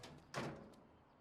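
A single door thuds shut in the horror game Parasocial, one quick, fairly close bump that trails off into quiet.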